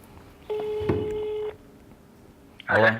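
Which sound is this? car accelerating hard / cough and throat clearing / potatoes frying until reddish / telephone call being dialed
telephone call being dialed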